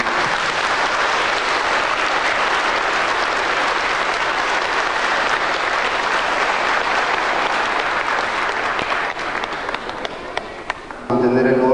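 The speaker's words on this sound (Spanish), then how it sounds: "démosle un fuerte aplauso de bienvenida." A church congregation claps loudly and continuously to welcome the Santo Niño statue at a Mass. The applause is dense and sustained, fades slightly toward the end, and gives way to a different sound in the last second.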